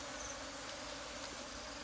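Asian cavity-nesting honey bees swarm and fight over a hive in an orchard, making a dense, steady buzzing drone that holds at an even, moderate level from start to finish.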